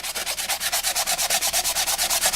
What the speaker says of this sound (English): I want to use the sandpaper on a block by hand.